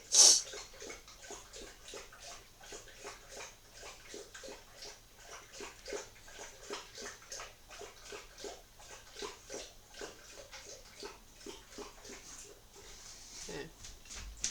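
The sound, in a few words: dog drinking water noisily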